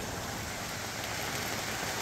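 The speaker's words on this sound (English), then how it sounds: "The rain is really starting to come down now." Rain pours steadily at a campsite during a stormy day, a constant soft hiss of drops drumming on surfaces, fairly quiet and unbroken, with no voices.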